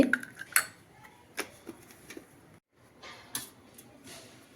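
Sandwich filling seasoned with chaat masala being mixed in a bowl, with sharp spoon taps and scrapes against the dish arriving in scattered bursts, close and fairly quiet, one brief pause midway.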